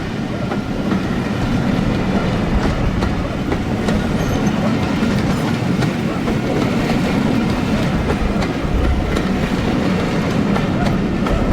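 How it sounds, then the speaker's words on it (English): Locomotives 70017 and 37508 depart Oxenhope station, a steady loud rumble of engines and rolling wagons with clickety-clack wheel beats throughout, close and continuous. "On the 22nd of June, 70017 and 37508 are seen departing Oxenhope."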